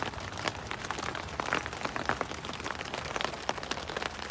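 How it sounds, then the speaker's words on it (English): Steady light rain patters on a tent rain fly set in its expanded configuration at a campsite, a dense, even crackle of drops with no talking. "Yep, it's going to rain. Very slowly but steadily."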